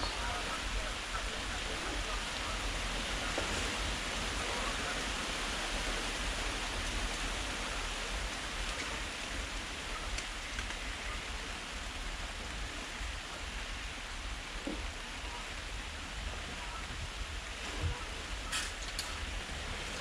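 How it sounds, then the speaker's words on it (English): Steady rain shower heard while sheltering on a guided nature reserve walk, a continuous dense hiss throughout; geese calls are not clearly distinguishable within the even wash of rainfall. "You can hear the rain and the geese."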